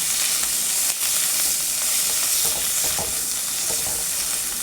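Ground bottle gourd leaf paste fries in hot oil with a dense, continuous sizzle, while a spoon stirs through it in soft, repeated scrapes, close up with no talk.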